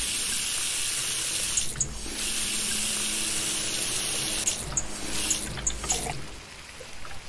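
Kitchen sink tap running in the Cooking Simulator video game: a steady, close hiss of flowing water that carries on for the whole stretch, with a few brief clatters and a drop in level near the end.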